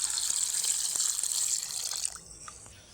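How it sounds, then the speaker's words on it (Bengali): Water runs steadily from a kitchen tap as cut potatoes are rinsed clean, a continuous close hiss and splash that cuts off near the end, leaving a few faint drips. "এবার আলুগুলোকে পরিষ্কার জল দিয়ে ধুয়ে নিতে হবে।"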